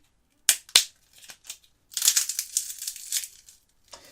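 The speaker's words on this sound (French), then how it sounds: "un test de destruction d'une vitre verre trempé" A tempered glass screen protector on a Xiaomi Redmi Note 2 smartphone is smashed: two sharp cracking impacts, a few smaller taps, then a longer stretch of crunching and grinding glass, close and loud.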